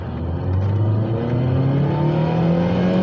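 A Saab 9-3 Convertible accelerating hard with the engine note rising steadily in pitch, close and loud, with no voices over it.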